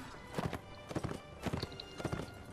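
Horse hooves pound in quick galloping clip-clop bursts in the video game Mount & Blade, rhythmic and moderately close, with a faint whinny-like tone and no speech.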